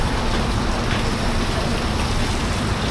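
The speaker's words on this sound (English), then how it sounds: "Absolutely raining, but it's fine." Heavy, steady rain pours down in Manila in the Philippines as a dense, unbroken hiss, loud and close with no pauses and no talk.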